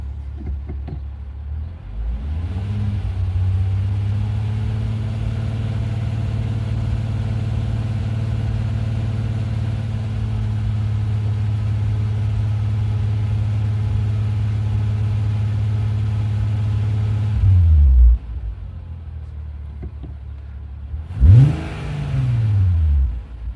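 A 3.2 VR6 engine in a mk2 VW Golf, just woken from winter storage, runs at a steady loud idle for a long stretch, then blips up in two short, sharp revs near the end, with no talking.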